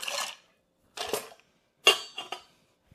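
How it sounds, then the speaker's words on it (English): Ice cubes dropped into a Monte Carlo cocktail in a glass, four short clattering bursts of clinking separated by brief pauses, close and clear with no talking. "We'll add a little ice."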